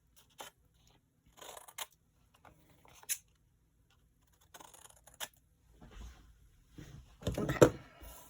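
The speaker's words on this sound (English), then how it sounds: "So I'm just going to cut off these corners." Scissors snip off the corners of a sheet of paper, a few short quiet crisp cuts spaced apart with near silence between, a louder rustling cut toward the end.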